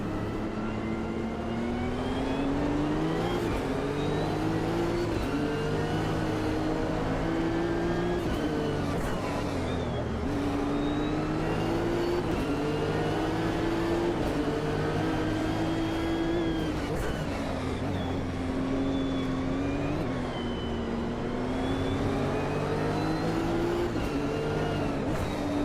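A Nissan GT-R race car engine in a racing video game revs and shifts continuously up and down, loud and close throughout with a sustained droning whine.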